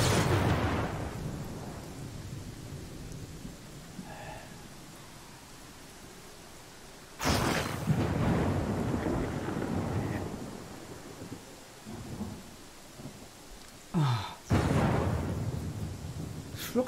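A thunderstorm rolls through the video game Pathfinder Kingmaker, with steady rain hissing between several loud, sudden thunder cracks and rumbles, the sharpest crash near the middle and another near the end, no speech.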